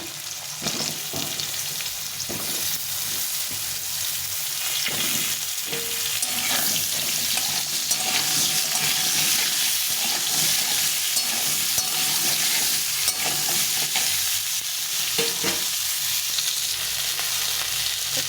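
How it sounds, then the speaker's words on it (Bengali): Potatoes and pointed gourd frying together in a pan give a steady, loud hissing sizzle throughout, with occasional stirring scrapes and no talking. "আলুটা আর পটলটা একসঙ্গে ভেজে নেব।"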